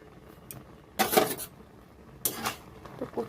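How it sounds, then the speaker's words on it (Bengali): A lid lifted off a cooking pot of boiling colocasia leaves in a village kitchen, two sharp metallic clanks a second apart with faint rattles afterward, otherwise quiet. "চাপাটা নামিয়ে নিচ্ছি"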